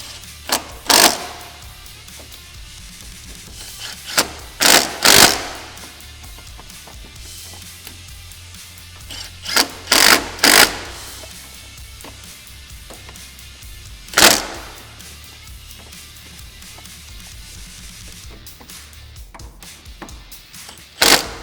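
Allen bolts on an ATV front disc brake kit are run down and tightened with a ratcheting tool, giving sharp clicking bursts every few seconds over a low steady hum, close by.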